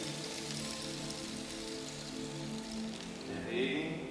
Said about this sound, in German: Der Regen wird etwas stärker.